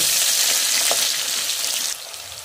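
Potatoes and onions frying in hot oil with whole cumin seeds, a loud close sizzle with a bright hiss that drops noticeably in level near the end, no talking.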